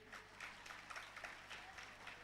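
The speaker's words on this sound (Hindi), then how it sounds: "थोड़ा तालियां बजाते रहिए" Audience applause at a school alumni meet at JNV Bhavnagar: faint, steady clapping from a crowd that goes on throughout, with voices murmuring underneath.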